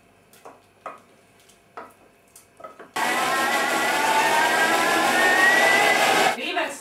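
Pasta sauce is puréed with a blender after light knocks and handling noises, then a loud, steady whirring starts and runs for several seconds before stopping, close to the listener.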